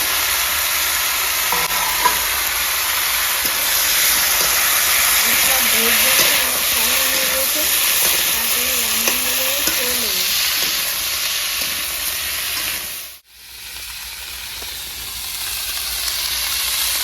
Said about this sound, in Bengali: এই তেলে আমি একটু ব্রকলি আর আলু ভেজে নেবো